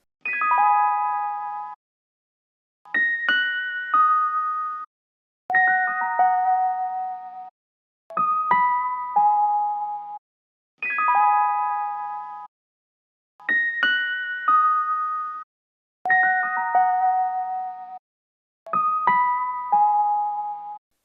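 Chopped music sample played back for a boom bap beat, time-stretched, eight short bell-like tonal phrases of about two seconds each separated by brief silences, loud and clean with no voice.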